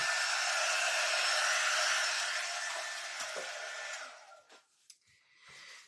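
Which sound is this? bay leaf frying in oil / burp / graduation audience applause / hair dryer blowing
hair dryer blowing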